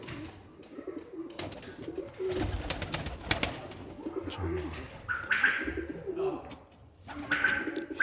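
Pigeons coo in a backyard loft, soft repeated coos near and far, with brief higher bird chirps and light rustling between calls; no one speaks.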